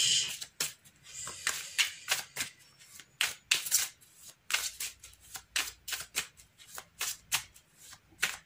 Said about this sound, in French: Les cartes, ils veulent pas se mélanger.